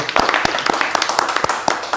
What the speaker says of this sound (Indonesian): Kita tepuk tangan dulu buat para tokoh kita kali ini